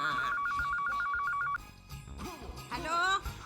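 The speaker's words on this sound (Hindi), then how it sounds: "फोन बज रहा है।" A telephone rings in a home with a repeated electronic trill for about a second and a half, then stops as voices begin talking.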